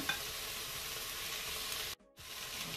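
Onions fry and brown in a Cookeo multicooker with a steady, close sizzle and the scrape of stirring, broken by a brief silent gap near the end before the sizzling resumes.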